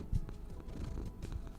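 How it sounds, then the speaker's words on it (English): A soft, low cat purr rumbles steadily up close, with faint rhythmic pulses and no talking. "Listen, you can hear him purr."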